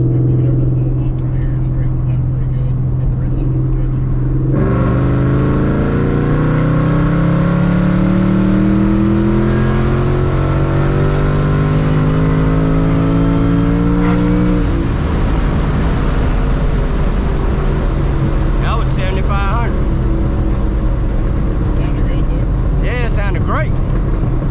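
A car fitted with a Kenne Bell 3.2 supercharger idles steadily, then its engine revs up hard and holds a loud, climbing note for about ten seconds before dropping back to idle, with brief clatter and voices in the background near the end.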